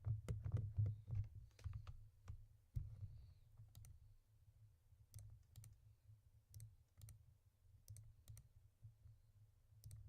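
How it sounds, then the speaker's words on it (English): Typing on a computer keyboard, bursts of quick, faint key clicks with pauses between runs, close and quiet, with no voices. "It's gonna be easier to type this out."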